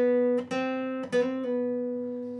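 Slow guitar part from a song: sustained chord tones with a few plucked note changes, played alone at a soft, even level.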